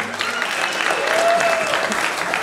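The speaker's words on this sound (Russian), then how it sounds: "Аплодисменты в зале." A concert hall audience applauds, a dense steady wash of clapping filling the room, with a faint tonal whistle drifting through the middle.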